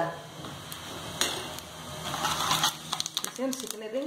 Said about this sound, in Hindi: इसे हम सिकने देंगे जीरे को, राई को।